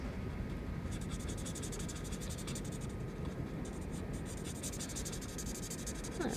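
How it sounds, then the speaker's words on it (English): A fine marker tip colours in a stamped image on a card, giving a soft, steady scratching close by with quiet rhythmic strokes. "now I'm just using that finer tip edge, but you can also use the bigger edge of the marker if you want"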